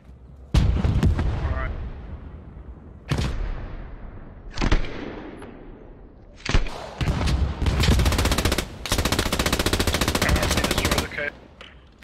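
MG42 machine gun fire in the Post Scriptum video game, loud sustained bursts following several sharp single gunshots, with a long continuous rattling stretch near the end.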